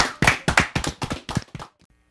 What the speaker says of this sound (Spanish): Un fuerte aplauso para muchacha.